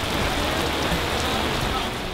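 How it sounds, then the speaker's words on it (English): Heavy rain pours steadily onto surfaces outdoors at a music video shoot, a dense, constant hiss with scattered drop spatters and no pauses. "It started raining like crazy out of nowhere."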